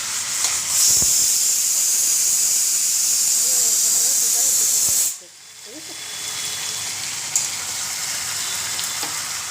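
Soybean kosha fries in a pan with a loud, steady sizzle and steamy hiss that drops sharply midway, then settles into quieter frying, while a voice talks over it.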